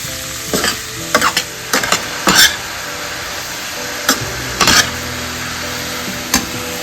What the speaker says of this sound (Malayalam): നമുക്കത് നന്നായിട്ട് ഇളക്കാം കേട്ടോ.